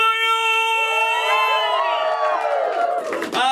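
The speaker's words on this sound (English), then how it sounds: "He said as the crowd goes, wild!" A comedy club audience at First Coast Comedy's The Main Event cheers and whoops as the host takes the stage. Loud sustained shouts and rising, falling whoops run for a few seconds before they die down.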